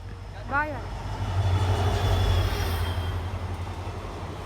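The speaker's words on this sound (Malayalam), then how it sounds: "അപ്പൊ നമുക്ക് പോവാനുള്ള ട്രെയിൻ വന്നിട്ടുണ്ട്" A train arriving at a station rumbles steadily nearby with a low mechanical drone, a brief squealing whine rising near the start and continuous rail noise throughout.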